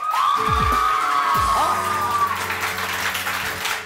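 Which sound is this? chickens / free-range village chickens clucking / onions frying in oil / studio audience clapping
studio audience clapping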